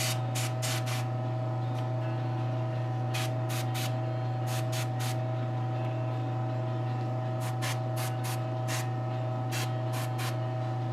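Short hissing bursts from an airbrush or spray gun painting a custom Firestar statue from Savage Dragon, repeated in clusters over a steady low hum, with no talk.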